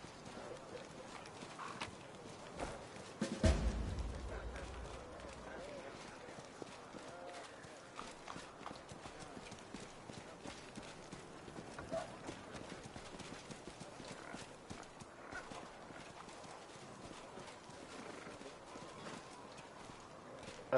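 Horse hooves clip-clop in the fantasy role-playing game Pathfinder: Wrath of the Righteous, a steady walking rhythm under light game ambience with a louder thud early on, as a player's voice talks over it.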